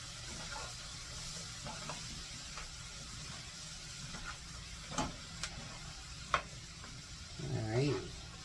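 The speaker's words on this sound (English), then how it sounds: "let me stir my veggies up a little bit" Vegetables frying in butter in a pan give a low, steady sizzle, with occasional scrapes and taps of a utensil stirring them and a brief mutter of voice near the end.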